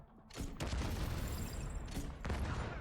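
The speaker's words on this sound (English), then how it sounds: "that was a lot of blowing up then" Grenade launcher blasts go off in The Division 2, a dense run of booming explosions and gunfire crashing over one another, loud and continuous with a brief lull before more detonations.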